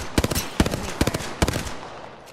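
Enemy gunfire in Apex Legends comes as short bursts of sharp, rapid shots in four clusters spaced about half a second apart. The bursts are fairly close and punchy, with a faint isolated shot near the end.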